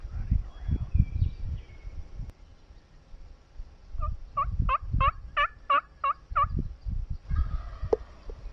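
A Merriam's wild turkey in Nebraska gobbles once in a quick, rattling burst of about eight rapid notes, heard from a middle distance, with soft rustling and low handling noise before and after.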